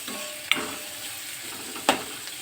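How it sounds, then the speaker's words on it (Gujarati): Chillies sauté in hot oil with a steady quiet sizzle, broken by two sharp scraping strokes of a spoon across the pan, nobody speaking. "મરચાંને પહેલાં સરખી રીતે તેલમાં સાંતળી લઈશ"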